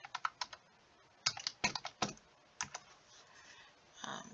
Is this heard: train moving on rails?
no